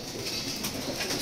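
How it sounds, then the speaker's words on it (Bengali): A male racing pigeon coos softly, a low murmuring bird call close by, brief and quiet against a hissy background. "এটা অনেক ভালো কবুতর।"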